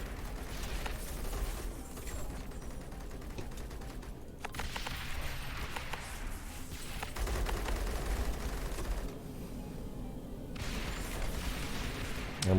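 Mortar tower firing in the Rogue Tower video game, a faint, busy series of muffled booms and mechanical clatter repeating over a low game background.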